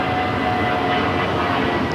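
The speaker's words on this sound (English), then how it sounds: "That's TrueBlue Airways Flight 1463 heading to Cabo in an A320." An Airbus A320 operated as a TrueBlue Airways flight to Cabo departs LAX, a steady, dense engine rumble with a faint tonal whine, continuous and moderately loud for two seconds without talking.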